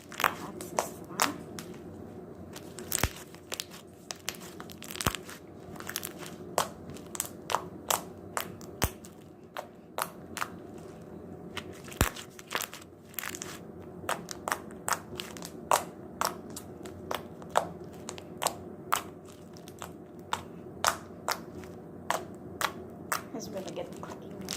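Slime being squeezed and worked by hand gives off a long run of sharp, crisp clicks and crackles, some single and some in quick clusters, all fairly close and soft against a quiet background.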